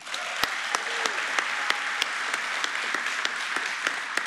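Audience applause for a council member being introduced at a city State of the City address; steady, moderately distant clapping with sharp individual claps popping out, continuous throughout.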